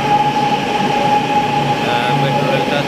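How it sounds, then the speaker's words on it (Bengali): A metro train pulls into a station in a Chinese city, a loud steady rolling roar with a sustained high whine from the wheels and motors, heard close and without clear talk. "মেট্রো রেলটা, চলে আসছে"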